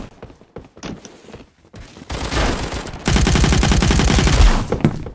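Rapid automatic gunfire from a Roblox game weapon, starting as scattered shots and swelling into a loud, dense, sustained burst of fire with no talk over it.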